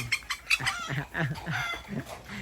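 Turkeys cluck and call in a rapid series of short, close, bright bursts, with a little overlapping chatter from farm fowl.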